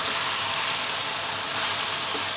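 Kalia curry sizzles and fries loudly in hot oil, a steady, dense, close hiss that goes on without pause and has no voices over it.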